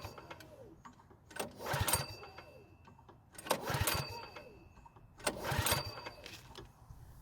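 Starter rope on a Craftsman snow blower that won't start, with a spark tester fitted in line with the spark plug, yanked three times, each pull a rising whirring rasp of the cranking engine with quiet pauses between.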